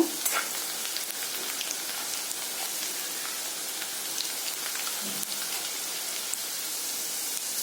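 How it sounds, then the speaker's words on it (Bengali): Steady crackling sizzle of tengra fish frying lightly in hot oil, continuous and fairly close, with no voices. "এটারে খুব লাল লাল করে ভাজতাম না, অল্প হালকা ভাজি দেব।"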